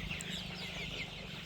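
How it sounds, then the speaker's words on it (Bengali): Colour Bird chickens 33 days old inside a netted poultry shed, faint soft clucking and chirps over a quiet, steady background hum. "তো এই হলো আমাদের কালার বার্ড মুরগি 33 দিন বয়সে।"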